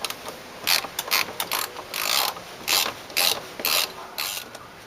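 A ratchet works the metric 10mm bolts holding the window motor inside a Mazda CX-7 door, giving several quick bursts of close, sharp clicking separated by short pauses.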